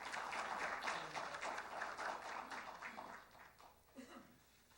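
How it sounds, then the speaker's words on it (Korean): An audience applauds a winner at the 3rd Software Industry Protection Awards, a steady patter of many hands that thins out and fades toward the end, with faint talk mixed in. "여러분 다시 한번 축하의 박수를 부탁드리겠습니다"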